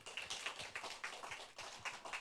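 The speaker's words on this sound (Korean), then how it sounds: "하나님께 영광의 박수로." Church congregation applauding during a Sunday worship service, an irregular patter of hand claps in quick bursts, fairly faint and distant, with no talking.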